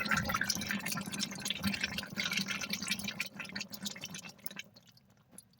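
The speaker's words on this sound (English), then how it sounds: "That's the water filtering through the gravel." Water trickles and drips steadily as it filters down through gravel in a home water recycling setup, a continuous close wet patter that thins out near the end.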